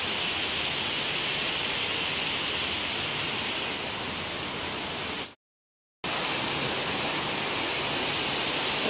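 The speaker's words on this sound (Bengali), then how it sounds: "এই যে প্রচুর বৃষ্টি শুরু হয়ে গেছে।" Heavy rain pours down in a dense, even hiss that fills the air, cut by one brief silent gap before the downpour returns just as strong.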